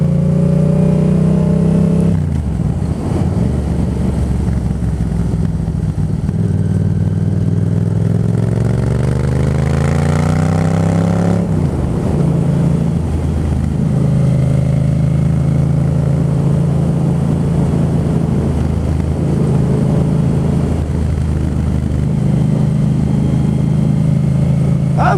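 A Yamaha MT-07 motorcycle from 2018 rides along a road, its engine droning steadily and loudly, rising and falling in pitch as it accelerates and shifts, with wind rumble throughout.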